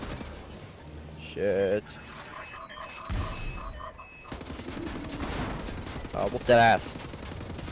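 Assault rifle gunfire in Wolfenstein The New Order, short bursts of shots over background game noise while someone talks.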